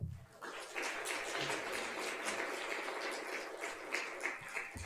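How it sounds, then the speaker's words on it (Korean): Applause from a lecture audience of parents welcoming a pastor to the stage, a quiet, even patter of many hands heard from a distance that holds steady throughout. "목사님 나오실 때 박수로 맞이하겠습니다"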